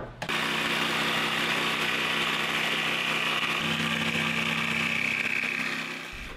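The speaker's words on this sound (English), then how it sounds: "Cut out all the boot puller openings with my rigid cordless jigsaw" A Ridgid cordless jigsaw cuts the curved boot puller openings in a wooden bench, giving a steady, loud, continuous buzzing whine from start to finish before trailing off at the very end.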